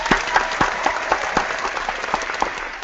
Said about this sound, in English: I want to give a big round of applause